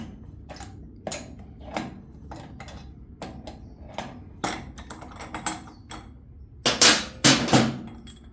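Close, rapid metallic ratcheting and clanking as wrenches spin to remove a Harley wheel bearing, an irregular run of clicks and knocks that grows louder near the end.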